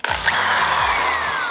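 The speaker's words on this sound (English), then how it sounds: "So we can go ahead and drill our holes." A power drill with a quarter-inch bit whirs steadily, drilling holes in a Jeep Wrangler YJ body, its motor pitch rising and dipping as it bites, loud and close.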